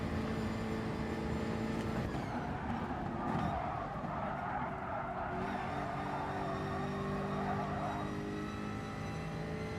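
A Jaguar race car in GT Sport drives at speed: a continuous engine drone with shifting pitch, tyre noise and a brief swelling roar midway, steady and prominent throughout.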